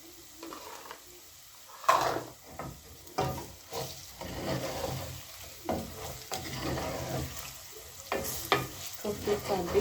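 Tomato paste and spices fry in a pot for beef pilau, a steady close sizzle broken by repeated scraping stirs and occasional utensil knocks against the pan.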